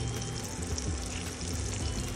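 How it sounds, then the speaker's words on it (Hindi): Chicken pieces fry in oil over a low flame, giving a dense, steady sizzle that carries on evenly and close up without a break. "इनको लो फ्लेम पे हमें जो है फ्राई करना है"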